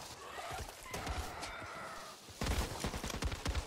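Gunfire in the zombie shooter game Back 4 Blood, a mix of rapid shots and bursts over steady background noise, growing denser toward the end.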